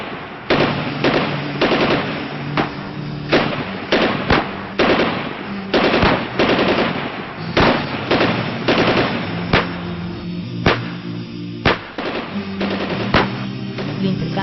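Rapid bursts of machine-gun fire and single gunshots crack through a sustained exchange of fire, sharp repeated reports close and loud, continuing without pause.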